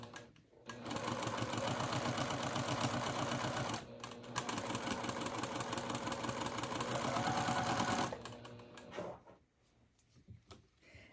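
Close-up sewing machine chain-piecing quilt fabric for a ladybug block, running in a fast, even rattle for about three seconds, pausing, then stitching again for four more seconds before stopping, followed by quiet handling.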